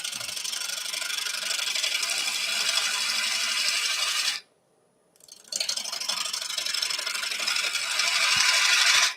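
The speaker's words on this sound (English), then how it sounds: "I've gone up in size of gouge now, just to rake a bit of this timber away." Large gouge raking yew wood on a lathe to remove weight from a flower vase, a continuous close rasping scrape broken by one brief silent gap before the cutting resumes.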